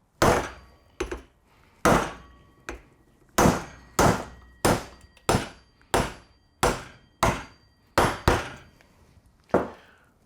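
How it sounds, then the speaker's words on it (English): A hammer strikes an 18mm socket set on a metal cap during a Toyota Celica tailshaft rebuild, about a dozen sharp, loud knocks at an uneven pace, each ringing briefly before the next blow. "take an 18mm socket, set it on top, and then with a hammer, knock it in."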